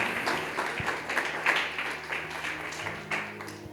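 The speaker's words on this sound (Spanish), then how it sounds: "Dale fuertes palmas de alabanza al Señor" A church congregation claps together in praise, a dense, steady wash of many hands from start to finish with a faint voice underneath.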